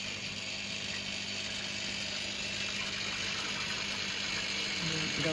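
A bean sprout growing machine, set to a timed cycle, starts up after being plugged in and pumps water through its chamber, giving a steady continuous whir and gurgle throughout, fairly loud and close.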